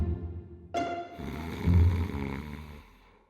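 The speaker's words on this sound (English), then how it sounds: "Do you know you snore?" A person snoring at close range, with a deep, rasping inhaled snore that swells and then fades away.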